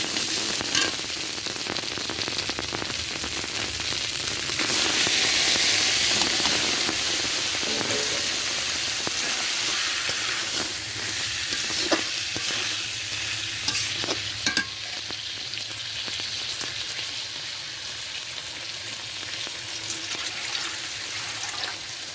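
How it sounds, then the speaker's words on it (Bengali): Malabar spinach tumbles onto small crabs frying in a pan, a wet hiss followed by continuous sizzling and the scrape of stirring, close by. "কাঁকড়া আমার কষানো হয়ে গেছে, এবারে আমি পুঁই শাকগুলো ঢেলে দেবো।"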